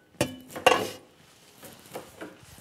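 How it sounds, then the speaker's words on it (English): A cooking pan is handled in a kitchen while breakfast is being prepared, giving two sharp metallic clanks close together followed by a few softer, fainter knocks. "cooking pan"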